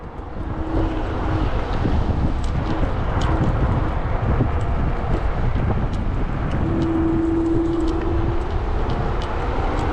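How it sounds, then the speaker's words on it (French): Steady roar of strong wind buffeting the microphone outdoors on a sunny day during an Angwatt X1 electric scooter test, continuous and loud throughout with low rumbling gusts. "il fait beau aujourd'hui mais il y a beaucoup de vent les gars"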